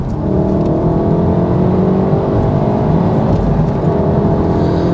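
A Volkswagen MK7 Golf R with a manual gearbox accelerates hard, its engine holding a loud, steady, rising roar from start to finish with no talking.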